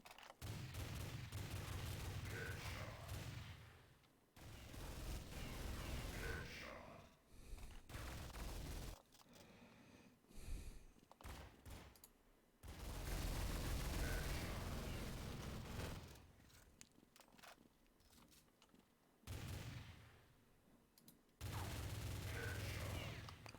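Video game gunfire, faint bursts of rapid shots that come and go in separate stretches between quiet gaps.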